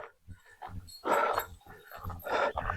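Dogs on an outdoor hike making close, short whimpering and growling vocalizations in quick uneven bursts, with no talking.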